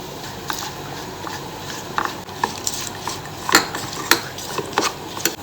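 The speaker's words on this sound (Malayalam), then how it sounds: "കാൽ ടീസ്പൂൺ മഞ്ഞൾപ്പൊടി ഒരു സ്പൂൺ മുളക് പൊടി എല്ലാം കൂടി ഒന്ന് മിക്സ് ചെയ്യുക" A spoon stirs turmeric and chili powder together in a pan for a kerala kadala kappa dish, with irregular clinks and scrapes against the metal over a steady low background, no talk.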